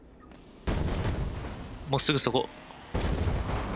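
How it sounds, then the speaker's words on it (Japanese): Explosions in the video game Dead Rising 3 burst out in loud booming waves, several heavy blasts one after another, with someone talking over them. "おお、爆発してる。"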